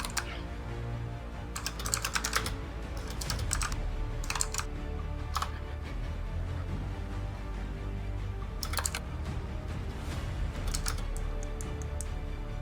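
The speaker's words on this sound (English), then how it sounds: "I was typing a dumb joke." Computer keyboard typing during an online tabletop role-playing session, quiet clusters of quick key clicks in short bursts separated by pauses, over a low background hum.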